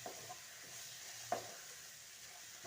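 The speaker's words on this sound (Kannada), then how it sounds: "ಗರಂ ಮಸಾಲ, ಚಿಲ್ಲಿ ಪೌಡರ್ ಹಾಕ್ಕೊಂಬಿಟ್ಟು ನೀಟಾಗಿ ಚೆನ್ನಾಗಿ ಸ್ವಲ್ಪ ಮಿಕ್ಸ್ ಮಾಡ್ಕೊಳ್ಳೋಣ" A spoon stirring garam masala and chili powder into rice in a pan, soft scraping strokes with a couple of sharper clinks over a faint steady sizzle.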